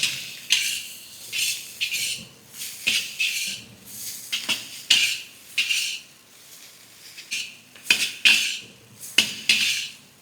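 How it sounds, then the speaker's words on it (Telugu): Boiled noodles, about 250 grams, are tipped into a pan for street-style chicken noodles and tossed, giving repeated clattering scrapes and metallic clinks in uneven bursts at close range, with no talk. "ఇప్పుడు ఒక 250 గ్రామ్స్ నూడిల్స్ వేయాలండి ఇందులో"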